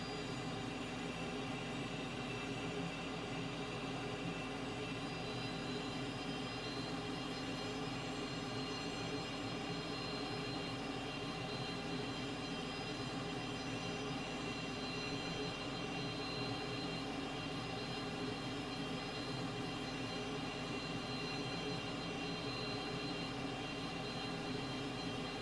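Cessna light aircraft coming in to land, heard from inside as a constant, loud droning engine and wind roar that stays steady throughout, with no talking.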